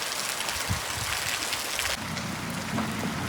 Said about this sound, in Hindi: मज़ीद तेज़ होती जा रही है बारिश, सही तेज़ होती जा रही है